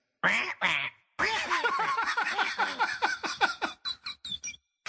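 A parrot squawks in a rapid run of harsh, nasal calls, a short pair followed by a long burst of choppy squawks, loud and close with no talk over it.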